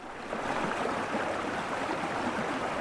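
Floodwater rushes down a hiking path turned into a stream, a loud, dense, steady roar of running water that starts just after the opening and carries on evenly without talk.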